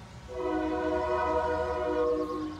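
A train rolls past in Farming Simulator 19 on Spectacle Island, its horn sounding a long, loud, steady multi-tone blast over the low rumble of the cars, with no talking.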